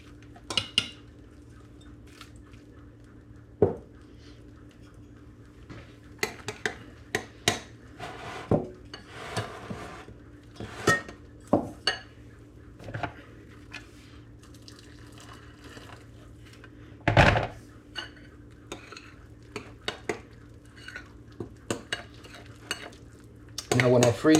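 Scattered clinks and scrapes of utensils against pots while stirring chicken and vegetables, with soft stirring noises at an irregular rhythm, close by over a low steady hum.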